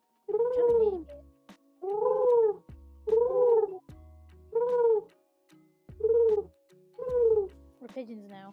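A person vocally imitates a pigeon's coo, giving six rounded, throaty cooing calls in a steady rhythm with short gaps between them, close and fairly loud, ending in a brief trailing warble.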